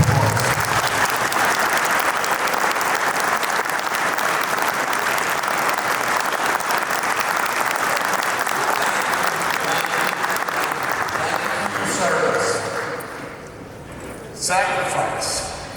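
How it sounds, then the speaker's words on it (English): An audience applauds veterans and military members standing at a gathering, loud sustained clapping that tapers off near the end, with a brief resurgence. "Please, a round of applause."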